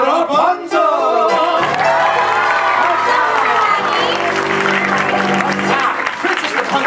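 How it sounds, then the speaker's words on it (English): A Disneyland Fantasy Faire crowd greets Rapunzel at a Tangled stage show with loud, sustained applause and cheering, whoops and children's shouts rising over a continuous roar, with a voice heard at the start. "please give a royal round of applause to our first royal guest"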